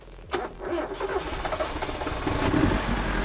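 An Isuzu Bellett GT-R with a carbureted engine cranks briefly and fires, then settles into a steady, throaty idle close by, with no talk over it.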